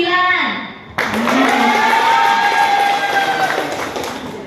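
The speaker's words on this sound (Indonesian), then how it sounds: "Coba yang gelombang 5, tepuk tangan ya bos." A school talk show audience at a junior high school claps and cheers together, a dense wash of applause with voices shouting over it, following a brief spoken line at the start.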